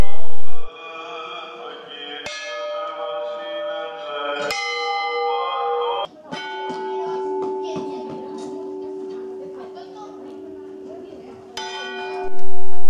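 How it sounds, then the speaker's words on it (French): A church bell tolls a slow death knell, loud and close, each ringing stroke overlapping the last with long shimmering decay, in steady measured succession. "La cloche sonne le glas."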